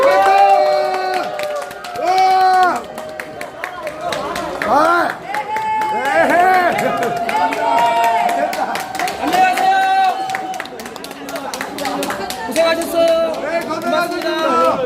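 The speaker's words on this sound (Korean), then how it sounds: "박수. 박수." Fans at a Hongja fan meeting concert in Andong clap and cheer, rhythmic crowd clapping and high excited shouts mixing with voices, swelling and dipping over several seconds.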